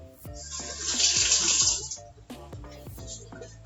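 Water runs from a tap onto a paper towel in a steady hiss for about two seconds, then eases into soft trickles and splashes, with faint clicks and knocks underneath.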